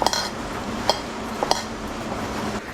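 A spoon stirs sambar powder through a pot, giving a few distinct metallic clinks and scrapes over a low steady background, close and fairly quiet with no talking.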